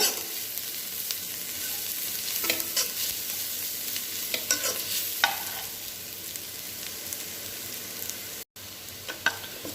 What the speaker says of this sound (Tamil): அடுத்து இஞ்சி பூண்டு பேஸ்ட், இது பச்சை வாசம் போக நல்லா வதக்கிக்கோங்க